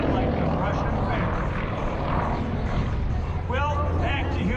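Sukhoi Su-31 aerobatic plane with a Russian radial engine at an airshow, a loud continuous propeller-engine roar near at hand with a rising, wavering whine toward the end.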